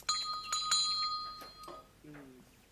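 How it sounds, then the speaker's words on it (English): A bell rings several times in a 1970s drama scene, bright repeated chimes that fade over about two seconds, faint and close, followed by a brief low tone. "Would you mind ringing the bell, please?"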